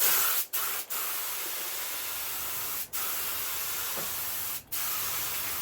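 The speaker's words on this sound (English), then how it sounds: "I'm going to spray the bonnet on this side first, so I don't get the line on it." Spray painting a car bonnet: a loud, continuous hissing spray from an aerosol or spray gun, cut by four short pauses between bursts.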